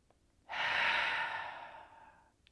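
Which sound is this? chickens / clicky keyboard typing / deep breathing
deep breathing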